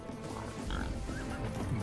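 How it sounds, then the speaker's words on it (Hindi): A pig grunts during a hunting scene in an Indian action film, a short rough grunting burst over low rumbling background, fairly close and moderately loud. "सुअर"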